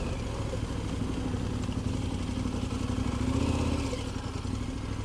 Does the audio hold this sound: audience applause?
no